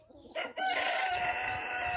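A Xin Dian hen, a green-egg-laying breed, gives a loud, drawn-out call close by, preceded by a brief cluck, with faint background noise underneath.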